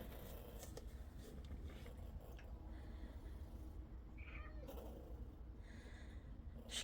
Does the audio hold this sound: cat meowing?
yes